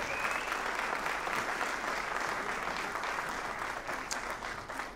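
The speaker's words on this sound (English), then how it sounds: "I think it deserves another round of applause" Concert audience applauding a brass band piece, a sustained wash of many clapping hands heard from a distance, steady and even throughout.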